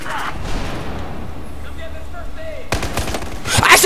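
Battlefield 4 multiplayer gunfire breaks out as a loud, dense burst of shots near the end, after a quieter stretch of game ambience with a few faint tones.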